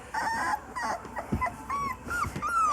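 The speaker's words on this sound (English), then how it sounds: "Don't cry, puppy girl." A three-week-old puppy whimpers and yips in a string of high, thin cries close to the listener, broken by short pauses, with no talking over it.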